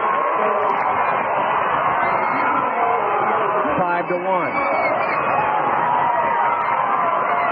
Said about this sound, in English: The crowd goes wild as Calamarino makes it